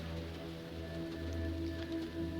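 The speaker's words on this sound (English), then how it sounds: "Where it's apparently raining." Rain falls in the adventure video game Primordia as a steady, soft patter over a low droning hum. It stays even and fairly quiet throughout, with no speech.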